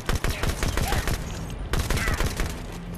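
Rapid, crisp gunfire from Halo 5: Guardians fires in fast repeated bursts throughout, a dense rattling stream of shots with only a brief gap in the middle.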